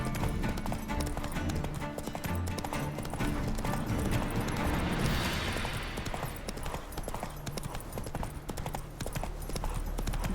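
Roach, a horse in The Witcher 3: Wild Hunt, gallops with steady rapid clip-clop hoofbeats running continuously through a busy game soundscape, loud and close throughout.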